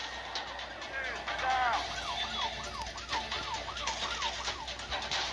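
A wailing police car siren from the video game Dude Theft Wars sweeps up and down repeatedly over steady background game noise, loud and continuous throughout.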